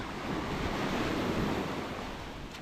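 Steady ocean surf rolls onto Anjuna Beach in Goa, a continuous broad wash of breaking waves with some wind buffeting the microphone, heard alone with no talking.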